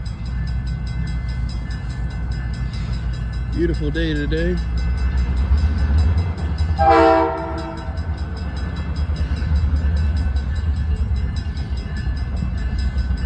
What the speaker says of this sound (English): We got a Iowa Interstate train coming through.